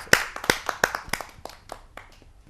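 At a Hindi poetry gathering, a brief round of audience clapping starts strong and thins out, with distinct hand claps fading away over a couple of seconds.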